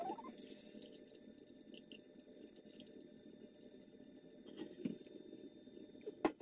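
Cooked corn kernels drain of water in a kitchen, a faint, steady trickle and dripping with a few small knocks and splashes toward the end.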